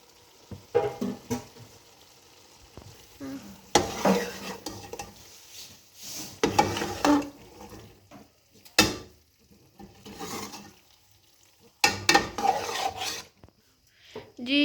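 Chicken macaroni mixture with ketchup and black pepper being stirred in a pan, intermittent scraping and rubbing bursts of a spoon against metal with light sizzling, separated by quiet gaps.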